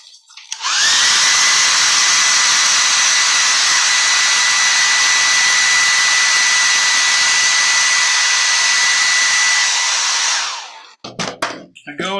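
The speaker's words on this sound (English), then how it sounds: "I'm going to hit that with about 10 seconds, 10, 15 seconds of hair dryer" A hair dryer blows steadily and loudly on freshly painted wood carving, a continuous close whoosh with a high whine that runs for about ten seconds, then cuts off into a few clicks and handling noises.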